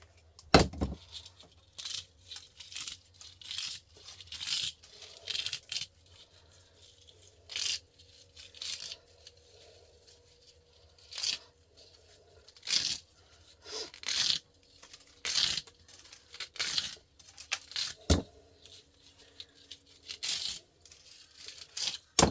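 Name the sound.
plastic being bent and broken off a washing machine pump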